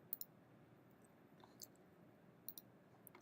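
A computer mouse clicks softly a handful of times, short sharp ticks spaced irregularly over a quiet near-silent room.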